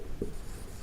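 Handwriting digits of a number during a math lesson on place value, a short soft scratch of pen on paper with a faint bump near the start over quiet room tone.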